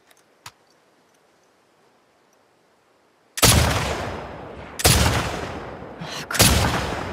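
Three loud, close gunshot blasts from The Last of Us Part II ring out after a quiet stretch, each with a long decaying echo, spaced about a second and a half apart.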